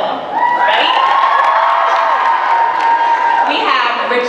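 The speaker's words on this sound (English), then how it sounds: "I would love, love, love a big round of applause for the cast and director of Little" An audience gives a loud, sustained wave of applause mixed with cheering, whoops and high-pitched shouts as the cast and director of the film Little are welcomed on stage.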